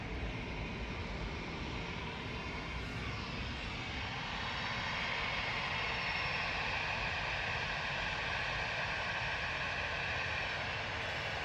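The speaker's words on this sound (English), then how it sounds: "EasyJet 701 to Belfast is going to go next though, just lining up from Tango now, GEZUL A320 Classic" EasyJet Airbus A320 airliner lining up on the runway at Manchester Airport, a distant, steady broadband jet engine roar holding level throughout.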